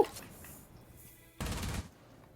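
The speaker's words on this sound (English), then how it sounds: "bullets fly out right there" Brief burst of gunfire in a competitive UGL semi-final esports match, UiU Athena versus JPC, one loud short volley standing out after quieter game ambience with faint background noise.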